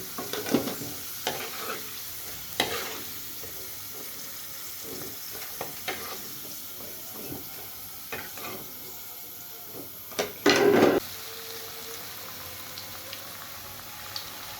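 Potato French fries frying in hot oil, a steady sizzle running throughout with scattered stirring clatters and a sharper burst of bubbling midway; no voices.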